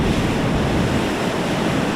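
Massive waves crash ashore in Atlantic City during a tropical storm, a loud continuous roar of surf mixed with gusting wind buffeting the microphone, close and unbroken throughout.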